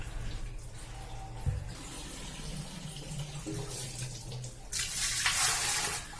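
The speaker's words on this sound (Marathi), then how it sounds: "यात पाणी भरून ठेवते" Tap water fills a clay matka with a steady, close rushing splash that swells louder and brighter toward the end, with no voices.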